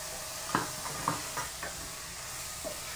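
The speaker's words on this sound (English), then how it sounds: "I'm just going to stir this up" Beef and jasmine rice stirred in a hot pan, a soft continuous sizzle broken by several distinct scraping strokes of a utensil at uneven intervals.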